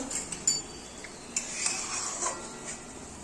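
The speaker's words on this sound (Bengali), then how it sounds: "আমি একবার নেড়ে দিলাম এটা" A spoon scrapes and taps against a pot while a gourd dish is stirred, giving a few quiet, scattered metallic clinks and knocks over a soft simmering background.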